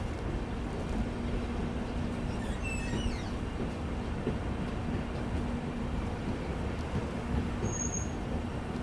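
Rajdhani Express train standing at New Haflong railway station, with a steady low rumble and hum of the idling train and platform ambience throughout, a few faint high squeaks midway, no talk.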